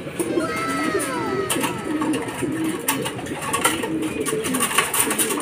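Racing pigeons arriving at a loft during a derby coo steadily against a busy background, with soft wing flutters and faint chirps nearby.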